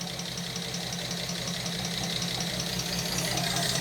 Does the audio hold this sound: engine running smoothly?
yes